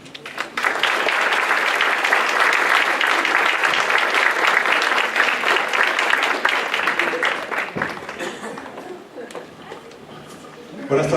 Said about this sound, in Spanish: pido un fuerte aplauso para dar la más cordial bienvenida a nuestro invitado de honor